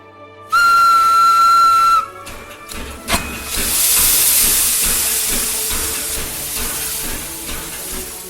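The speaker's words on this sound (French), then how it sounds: "le train s'ébranle, emportant les voyageurs vers des contrées lointaines" A steam train sets off: a loud, sustained whistle blast is followed by a rising, hissing rush of steam and the low rumble of the locomotive pulling away.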